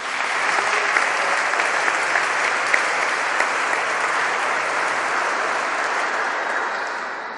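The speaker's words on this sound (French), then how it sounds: "je pense qu'on peut les applaudir" A congregation applauds altar servers at a Sunday confirmation Mass in a church, with steady, dense clapping that fills the room evenly for the full length before tapering slightly at the close.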